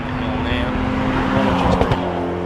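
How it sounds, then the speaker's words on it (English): A 2010 Porsche 997 GT3 CS roars past on a rally stage at Hermitage, its engine bouncing off the rev limiter as it runs down the hill, loud and close beneath a commentator's voice. "2010 Porsche My 997 GT3 CS. Oh, glorious noise on the rev limiter, down the hill"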